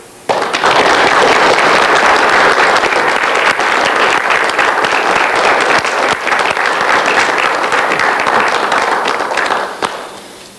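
A large lecture audience in Victoria breaks into loud, sustained applause for a guest speaker, dense clapping starting abruptly and holding steady for about ten seconds before cutting off.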